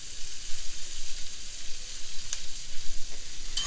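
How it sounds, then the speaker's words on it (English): Onions sizzle loudly in a hot pan with a continuous bright hiss, and a couple of faint scrapes from stirring come near the end, with no talking. "So in go the onions. Give them a little stir."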